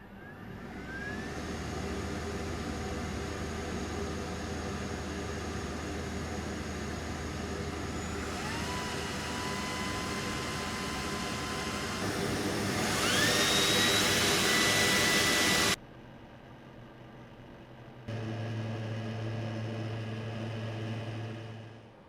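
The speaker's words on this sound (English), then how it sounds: "let's turn on the Metcal first, have a look at the noise and see if we can measure the airflow" A Metcal BVX-250 professional fume extraction system runs with a steady whining fan hum, stepping up in pitch and loudness as the speed is raised, then dropping briefly before resuming.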